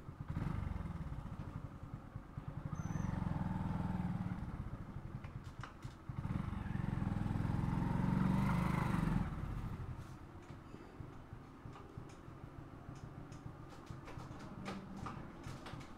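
A Hero Glamour 125 motorcycle rumbles steadily along a road, its engine loud and close with surging passages, then settling into a lower, rougher running sound for the second half.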